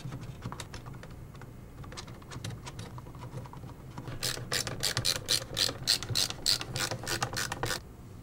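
Small screws are tightened to fix a CPU water block mounting bracket around a Ryzen Threadripper socket on an ASUS ROG Zenith Extreme X399 board, making quiet clicking and ratcheting at first, then a faster run of sharp, close clicks.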